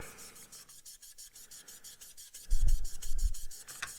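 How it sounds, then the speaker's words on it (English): Rhythmic rasping strokes of a sanding stick on a painted model surface, sanding down through the paint finish, a steady back-and-forth scrub that grows louder and heavier midway, with no talking. "Yes, we are sanding down through it"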